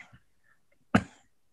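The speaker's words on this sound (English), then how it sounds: "Sorry, I have to cough." A single close cough bursts out sharply after a brief faint throat sound, then fades quickly into silence.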